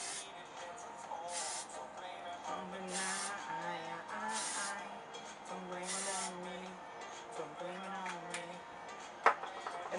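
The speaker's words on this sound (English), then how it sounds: "I'm gonna go back in with that hairspray." Hairspray hisses onto short hair in several separate bursts, each lasting about half a second, while a person talks in between.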